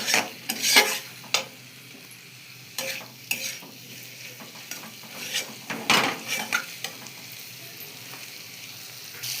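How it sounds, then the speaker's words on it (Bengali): Aloo dum potato curry is stirred in a pan after salt goes in, giving a soft frying sizzle and intermittent scraping and clinking strokes. "নুনটা দেওয়ার পরে দেখো আমি ভালো করে একটু নাড়াচাড়া করে নেব"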